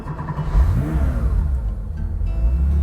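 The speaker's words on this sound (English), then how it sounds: "Cold start, the temp is all the way down." A 1974 Kinninger 3.6 RSR tribute car fires up from a cold start, its engine catching with a brief rising rev before settling into a loud, steady, rumbling idle close by.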